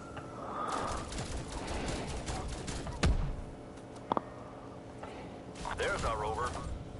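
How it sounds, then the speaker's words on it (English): Gunfire in Call of Duty Cold War as a player shoots at an orb: a busy stretch of rapid shots, then a sharp loud crack around the middle, a quick double burst after it and a fainter flurry near the end. "And then you shoot the orb this way."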